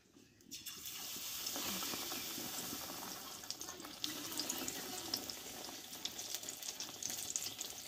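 Raw green tomato slices coated in spiced batter go into hot oil one at a time for Bengali-style tomato chops. A soft onset swells into a steady, dense sizzle that carries on without talk.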